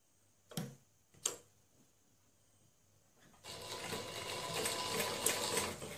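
A sewing machine stitches the lining of a saree blouse: two brief clacks as the needle is set, then a quiet, continuous whirring run of stitching that lasts to the end.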